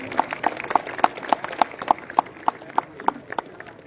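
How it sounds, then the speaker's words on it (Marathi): Evenly spaced claps ring out in a steady rhythm, about three per second, at the opening ceremony of a state-level volleyball tournament, crisp and fairly close over a low murmur. "सर्वांनी टाळ्या वाजवायच्या आहेत."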